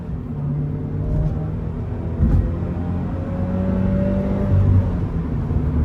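Toyota GR86 with manual gearbox on a full-throttle pull, cabin-heard engine hum rising steadily in pitch with a brief thump near the middle, loud and continuous, no talking.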